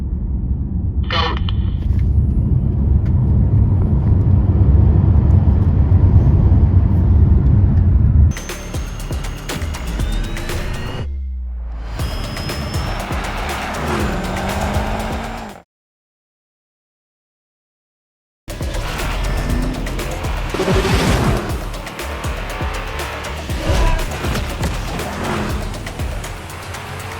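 A Land Rover Defender overtakes on a road with rumbling engine noise and tire squeal, loud and close, broken by abrupt cuts and a brief silence before the roar resumes.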